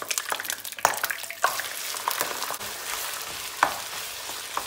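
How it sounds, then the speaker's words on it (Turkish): Meat frying in a small pot of hot fat, with a dense continuous sizzle and sharp pops and crackles as water bursts in the oil, close and fairly loud throughout. "Yağın içindeki sular patlıyor."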